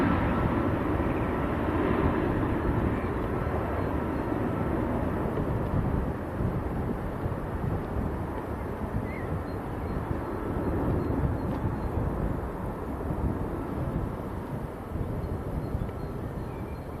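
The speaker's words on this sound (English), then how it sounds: "Airbus A319." An Airbus A319 at Manchester Airport gives off a steady, moderately loud jet rumble, heard up close with some wind buffeting and slowly fading toward the end.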